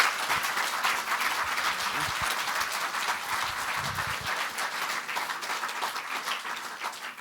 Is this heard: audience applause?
yes